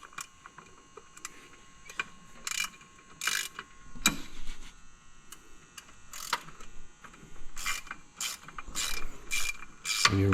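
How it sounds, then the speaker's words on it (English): A ratchet clicks away at the clutch pivot bolt on a 2021 Polaris Pro XP, giving repeated bursts of quick ratcheting close up with metallic taps between them and no talking. "And you remove the pivot bolt."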